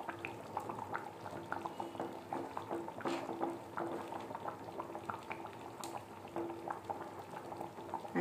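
A sweet potato and tomato stew (pulusu) bubbles in a pot, a steady soft simmer of popping bursts and gurgles, close and fairly quiet, with no talking.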